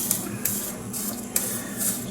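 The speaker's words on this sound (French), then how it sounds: "nettoyer ma pointe sur mon éponge" A hot soldering iron tip is wiped on a cleaning sponge, giving short hissing, sizzling bursts that repeat several times over a low background hum, close and fairly loud.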